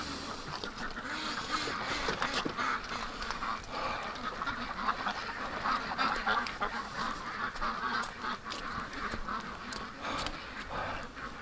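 Ducks quack continuously in their pen, a busy overlapping chorus of calls close by, with no speech.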